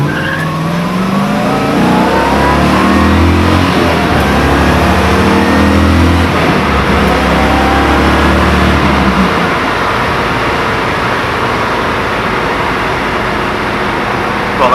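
A 1970 Ford Mustang Boss 302 V8 roars loudly up through its gears, its deep engine note climbing and dropping at shifts before settling into a steady cruising drone.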